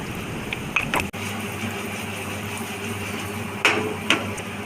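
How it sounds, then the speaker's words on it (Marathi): A lid is set down on a pan of frying arbi (taro root) pieces, giving one sharp metallic clink at mid-clip. Steady low frying sizzle runs throughout, and a couple of lighter clatters come later. "असं झाकण लावून ठेवायचं 5 मिनिटं।"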